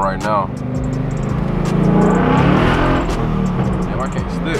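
Ford Mustang GT V8 fitted with long tube headers, a loud, rough engine roar that swells into a hard rev through the middle and eases off, close by, with people speaking over it.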